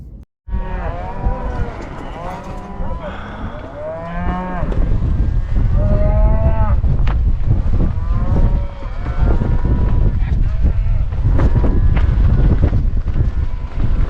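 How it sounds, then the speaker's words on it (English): Cattle mooing repeatedly and loudly at close range as they cross a road near Two Medicine Lake in Glacier National Park, Montana, with wind buffeting the microphone and other low moos overlapping throughout. "those cows are crossing right where we were"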